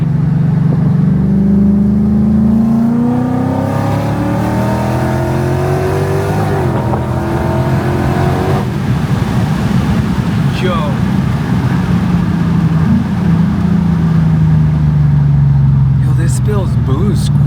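A supercharged Lexus IS F accelerates hard on a test drive, its engine note climbing loud and steady from inside the cabin while people talk over it.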